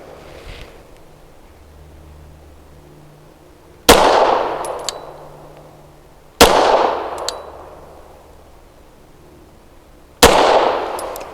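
Three Canik TTI pistol shots with PPU 158 grain subsonic ammunition, each a sharp, fairly soft crack with a short ringing decay, spaced a few seconds apart over faint background noise.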